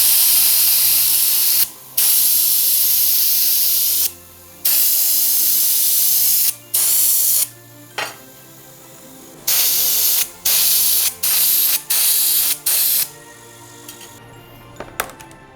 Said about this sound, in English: after you spray the cocoa butter